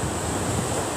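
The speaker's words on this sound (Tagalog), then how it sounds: "Ang hangin napakalakas." Strong wind and surf at a beach, with a continuous loud roar of waves and wind buffeting the microphone, no voices.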